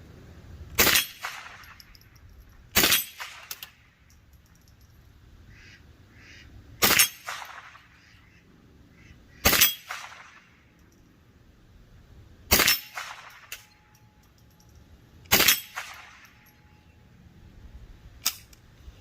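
Six sharp .22 LR rifle shots from a Savage 64 fired outdoors, spaced a few seconds apart, each a crisp crack with a short echo tail over quiet background.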